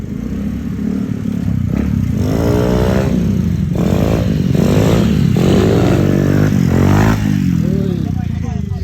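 A loud motorcycle engine roars and revs up and down repeatedly during wheelie practice, close by, with voices talking and shouting over the engine noise.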